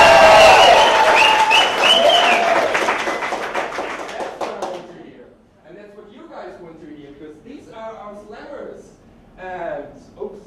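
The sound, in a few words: enthusiastic audience applause at science slam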